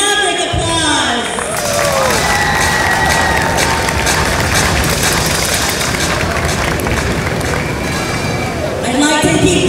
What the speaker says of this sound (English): give them a big, thundering Maverick applause